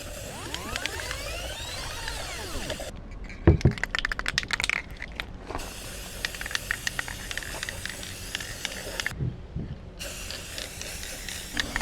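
Aerosol spray paint hisses in two sharp bursts onto an inline skate boot, each burst a loud broadband blast lasting a few seconds, with clicking and handling noise between and around them.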